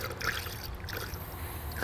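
Blue coolant pours through a spill-free funnel into the cooling system of a 2004 Acura TL 3.2L engine, a soft, close trickle of liquid that runs quietly for under two seconds.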